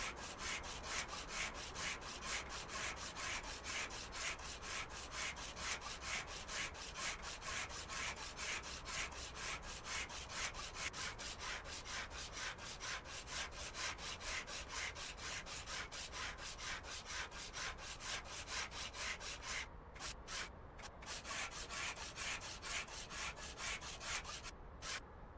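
A car part is hand-sanded in Car Dealer Simulator with a rapid, even back-and-forth scraping rub. The strokes run continuously and close for most of the stretch, with a few short pauses near the end.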